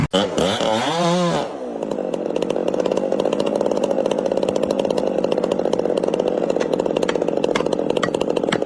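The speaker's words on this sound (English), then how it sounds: "used a steel chainsaw to cut hard into the trunk of an ancient tree" A steel chainsaw starts with a rising rev, then settles into a loud, sustained roar as it cuts hard into the trunk of an ancient tree, steady and close with no voices.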